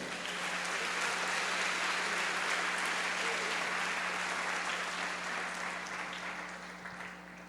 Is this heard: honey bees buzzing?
no